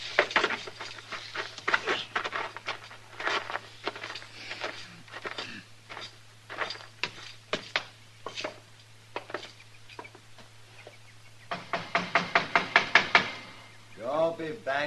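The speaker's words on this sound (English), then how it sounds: "Don't be banging on the door." Repeated knocking on a wooden door in uneven bursts, ending with a fast, loud volley of blows at close range.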